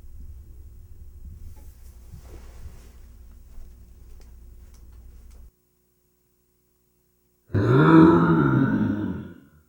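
Zombie intruder groaning loudly and close, a deep drawn-out guttural moan that comes in after a low rumble and a moment of silence.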